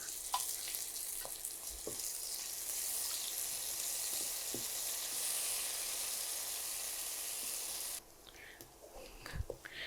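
Washed poppy seeds frying with cashews in a pan of oil for a vegetarian aloo dum: a steady, close sizzle and crackle that holds for several seconds, then drops away abruptly, leaving faint kitchen clatter.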